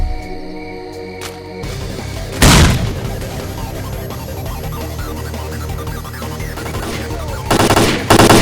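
Grenade blasts in STALKER Clear Sky ring out as two loud broadband booms, one near the start and another near the end, over a steady bed of distant gunfire, ambient game noise and a background score.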